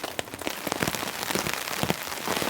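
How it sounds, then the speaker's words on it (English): Heavy rain drums on a tarp stretched over a tent, a dense, close patter with irregular louder drops striking the fabric, steady throughout with no voices. "Man, the rain's really coming in."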